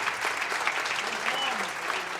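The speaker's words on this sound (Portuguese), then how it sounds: "Vamos aplaudir a Jesus pelo amor de Deus." A church congregation applauds during an anniversary revival celebration, a steady dense wash of clapping filling the whole stretch, with faint voices mixed in underneath.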